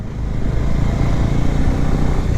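A motorcycle engine runs steadily in third gear, a loud close drone with a constant rumbling note while cruising, alone without speech.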